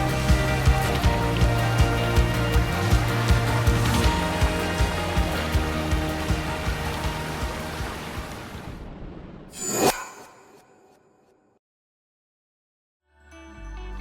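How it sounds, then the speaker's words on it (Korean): In a scene from the TV drama Twenty-Five Twenty-One, a heavy rain shower hisses steadily over soft tonal music. It slowly fades over about nine seconds, then a sharp knock lands and near silence follows. "대차게 내리는 소나기를 맞으며 너의 세계로 가겠다고 꿈을 다지는 희도는 많은 이들에게 감동을 선사했죠"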